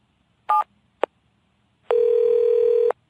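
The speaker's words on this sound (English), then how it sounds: "Mr. Williams picked up the phone and dialed his home number." Phone dialing: two short keypad tones, then a steady tone of about one second, crisp and close against a quiet background.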